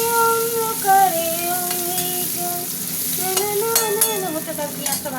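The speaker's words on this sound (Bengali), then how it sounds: "পেঁয়াজটা ভাজা ভাজা হোক" Onion fries in oil and gets stirred, a constant close sizzle broken by scraping clicks of the spoon, while a melodic song plays clearly in the background.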